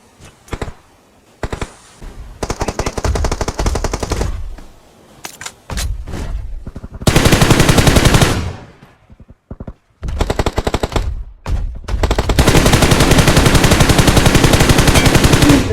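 Bursts of automatic gunfire ring out in the battle royale game PUBG Mobile on the Erangel map, loud rattling volleys broken by short pauses and quieter single shots, with no talking.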